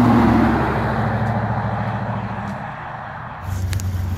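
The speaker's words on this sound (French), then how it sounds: "profitez de ces beaux sons de V8" A Ram pickup's V8 engine idles and rumbles with a steady low drone, close by and loud, then its revs rise near the end.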